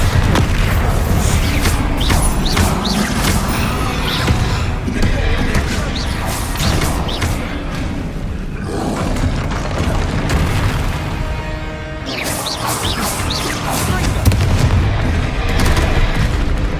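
Bombarda explosion spells blasting during a troll fight in Hogwarts Legacy, a dense, continuous roar of booms and crashes with repeated impacts throughout, loud and close.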